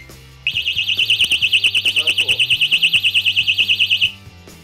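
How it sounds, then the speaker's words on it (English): A Kovix KCL10-110 alarmed chain lock on a bike sounds its alarm: a loud, shrill, rapidly warbling electronic siren that starts suddenly, pulses evenly for about three and a half seconds, then stops. "So if someone tries to steal the bike, the alarm's going to go off."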